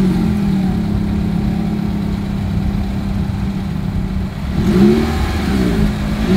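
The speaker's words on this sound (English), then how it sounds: "As always, here is that exhaust clip." A 2020 Nissan Rogue idles steadily at its exhaust outlet, then the engine revs up briefly near the end before settling back, close and loud with no talk.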